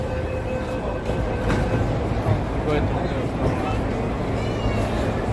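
A train idles and rumbles at the Racecourse Station platform, with steady low mechanical hum, faint clicks, and background voices murmuring nearby.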